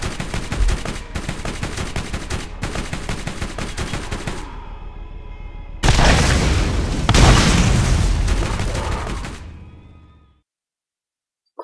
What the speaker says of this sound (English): Got a rocket launcher. And you can roadkill things. And it's got a machine gun.